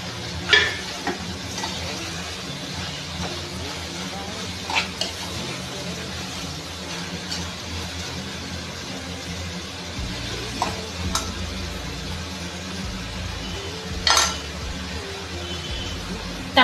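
Pieces of bottle gourd frying in a pan with peanuts and sesame while a spoon stirs them, a steady close sizzle with scattered clinks against the pan.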